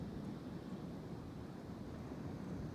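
Ocean surf rolling in at a small river mouth across sand, a faint continuous wash of distant waves mixed with light wind rumble.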